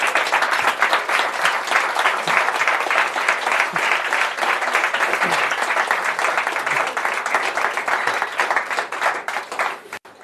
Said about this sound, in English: But Mr. Klati, I think we would all love to give you a huge round of applause and say thank you.